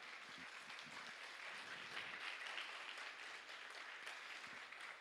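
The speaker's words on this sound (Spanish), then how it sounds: "Denle un aplauso al Señor" A church congregation applauds during a sermon, with steady, sustained clapping from many hands filling the room for several seconds at an even level.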